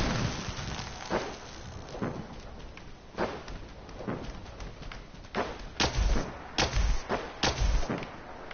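Gunfire in Fallout 4, a run of sharp broadband shots at irregular intervals over a rumbling game background, sparse at first and then bunching into louder, closer bursts toward the end.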